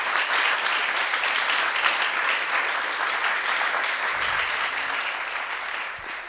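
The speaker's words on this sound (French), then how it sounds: "On peut aussi l'applaudir." Audience at a debate on Palestine applauding, a loud continuous wash of clapping that holds steady and fades slightly at the end.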